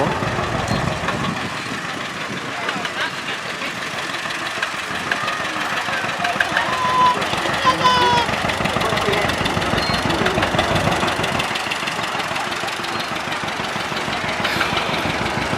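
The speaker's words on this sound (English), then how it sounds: "we have two Massey Harris tractors here today" Massey Harris and John Deere tractor engines idle nearby at a tractor show with a steady, knocking chug, and a voice talks intermittently over the rumble.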